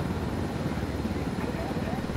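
Steady helicopter rotor noise in the shooter game Ghost Recon Wildlands, a dense low whirring throb that stays loud and unbroken for the whole moment.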